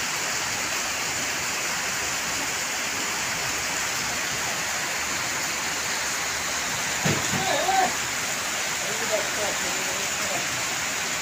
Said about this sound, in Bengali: প্রচুর বৃষ্টি, মুষলধারে বৃষ্টি।